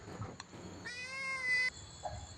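A temple cat in Lampang, Thailand gives a single clear, fairly close meow in a quiet evening room, with faint soft sounds around it.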